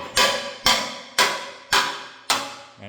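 A hammer strikes the frame of an old truck, five sharp metallic blows at an even pace about half a second apart, close and clear with nothing else heard.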